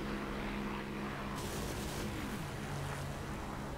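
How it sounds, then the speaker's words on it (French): A World War II propeller aircraft, a P-51D or Spitfire in the DCS flight simulator, drones past with a steady whooshing roar and a shifting engine tone, heard alone without speech. "j'entends même le bruit de l'avion qui passe"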